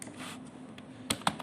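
Keys on a computer keyboard are typed in a few quick soft taps, then two sharper keystrokes near the end, over a faint steady electrical hum.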